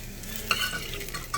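Sautéed beef for chile colorado sizzles softly in a pan, with a couple of brief stirring scrapes over a low, steady frying hiss, close and quiet.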